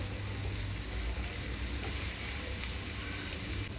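Chicken liver sizzling in hot oil on a tawa while being stirred, a continuous dense crackling hiss at moderate level with faint scraping underneath and no voices.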